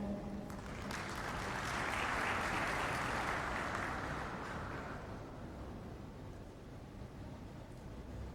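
A conference hall audience at a Middle East corrosion conference applauds as a speaker is welcomed to the stage, a broad, steady wash of clapping that swells and then slowly thins.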